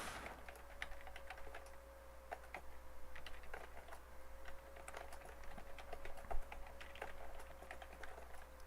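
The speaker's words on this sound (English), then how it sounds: "The more I think about typing fast for you guys," Rapid typing on a computer keyboard, light clicks pattering in uneven bursts close to the microphone, over a low steady hum and a faint constant tone.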